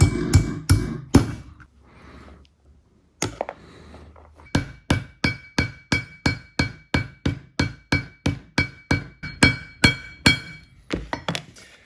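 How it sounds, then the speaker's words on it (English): Hammer blows on an anvil setting saddler rivets in a leather workshop, a few strikes, a pause, then a long steady run of about twenty evenly spaced, ringing metallic hits, close and loud, with no talking. "it's time to break out this awesome anvil here"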